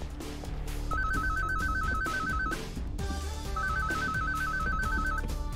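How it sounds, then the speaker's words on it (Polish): An in-game telephone rings in the video game Project Downfall, two bursts of a warbling electronic trill over a loud, busy music and game-sound backdrop. "O, telefon dzwoni."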